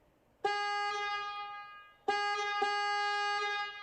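Two long blasts of a 2017 Acura NSX's factory horn, the first lasting about a second and a half, the second starting after a short gap and running to the end.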